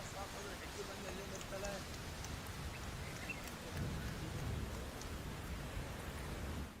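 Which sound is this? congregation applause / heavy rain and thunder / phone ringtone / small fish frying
heavy rain and thunder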